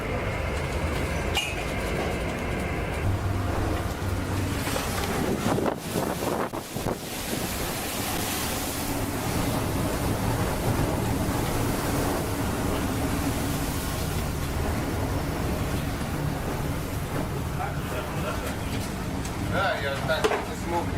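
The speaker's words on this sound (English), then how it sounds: "In the Sea of Okhotsk, a fishing vessel went fishing for crab in stormy weather" Stormy Sea of Okhotsk weather around a crab fishing vessel: loud continuous roar of wind buffeting the microphone over crashing waves and rushing water, heavy and unbroken throughout.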